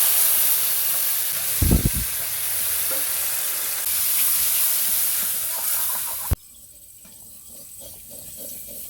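Turmeric, chili, cumin, cinnamon, cardamom and clove frying in a pan for a taro and prawn curry, a steady sizzle with a few loud scraping and clanking stirs, then the sizzle drops to a quieter hiss.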